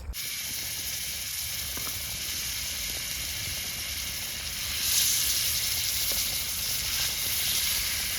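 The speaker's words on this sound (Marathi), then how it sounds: "तवा ठेवला त्याच्यावर तेल टाकलंय आणि श्रद्धाने चिकन मॅरिनेट केलं आता सर्विस टाक चिकन" A loud steady sizzle of marinated chicken frying in hot oil on a griddle over an outdoor wood fire runs throughout, swelling slightly partway through, with no voices.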